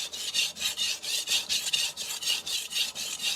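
Victorinox (R.H. Forschner) chef knife being sharpened on a Morihei whetstone: about eleven steady, rhythmic rasping strokes of steel across stone, close and fairly loud, with no talking.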